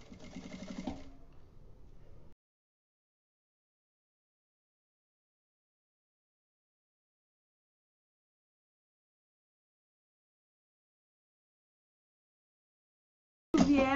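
Sewing machine stitching bias binding around a fabric card wallet, a short close whir of stitching that stops, long silence, then a brief burst of the motor again at the end.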